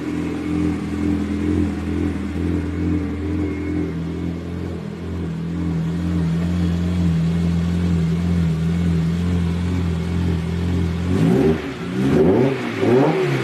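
A 1972 Mini van fitted with a VTEC engine drones steadily and close as it accelerates, then rises into a sharp revving surge near the end.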